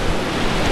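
Sea waves wash onto the shore at an emerald-water beach on Fukue Island in the Goto Islands, a brief loud roar of broadband surf with wind buffeting the microphone.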